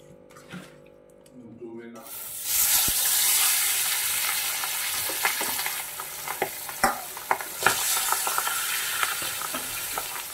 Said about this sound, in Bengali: এদিকে হচ্ছে মাছ ভাজা